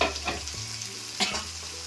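Spices for a snakehead fish curry sizzling in oil once the pan's lid comes off, a continuous close frying hiss with a couple of brief stirring scrapes, no voices.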